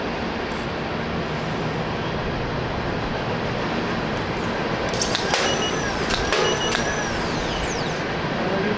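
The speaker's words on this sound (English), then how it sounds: "Train!" A steady, loud rushing rumble of a passing train fills the clip, with high metallic squeals and screeches of wheels on rails joining midway.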